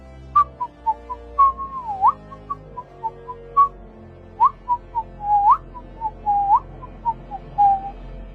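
A person whistles a cheerful melody with short bright notes and quick sliding phrases, close and clear against a quiet background.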